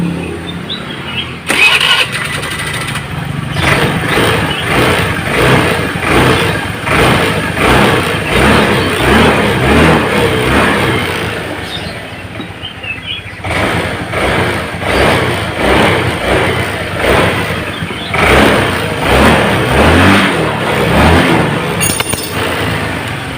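A motorcycle engine with a vacuum carburetor idles and revs repeatedly after carburetor servicing, rising and falling in steady surges, loud and close, with no talking.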